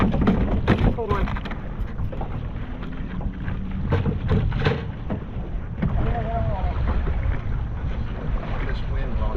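Strong wind buffets the microphone aboard a crabbing boat on a cold, windy winter day, with a constant low roar and gusts. Brief talk and boat handling knocks sit under the noise.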